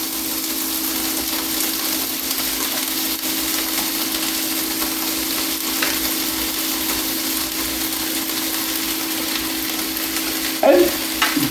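Ground meat sautés with onions and peppers in a hot pan, giving a steady, close sizzle and fry with faint stirring noises and a short clatter near the end.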